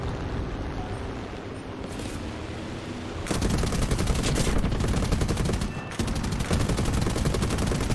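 Sustained aircraft machine-gun fire from the B-34 in the Air Arcade flight game, a dense rapid rattle that runs steadily, briefly breaking off and resuming, loud and up close with no talking.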